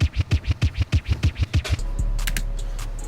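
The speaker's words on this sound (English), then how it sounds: "Another effect I have is this DJ scratch," Rapid, rhythmic vinyl scratching, about a dozen quick back-and-forth scrubs, then a sustained wash of noise with a few bright crackles.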